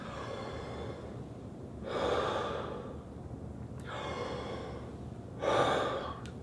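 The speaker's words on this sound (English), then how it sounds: "So we have a nice relaxed breath in." A person takes slow, relaxed deep breaths, with two long, airy inhales heard close and clear, separated by quieter exhales and no talk.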